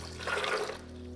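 Water poured into a blender jar holding a cup of cashews: a short, soft splashing pour of about a second, quiet and close.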